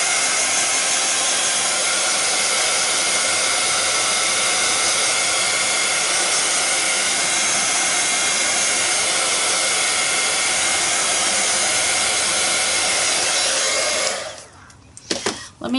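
A hair dryer blows with a steady, loud, broadband whoosh, cutting off near the end as it is switched off.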